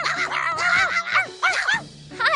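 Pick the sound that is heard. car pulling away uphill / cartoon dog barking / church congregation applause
cartoon dog barking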